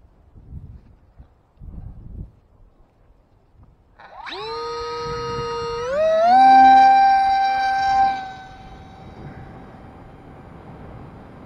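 A model aircraft carrying an extra camera flies past with a rising, whining electric motor buzz that swells loud as it passes close, then fades, with faint wind noise before and after.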